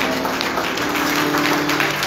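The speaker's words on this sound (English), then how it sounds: "let's give the Lord a hand clap of praise" A church congregation at a Baptist Men's Day service claps hands in praise, a dense and continuous patter of many hands that stays fairly even from start to finish.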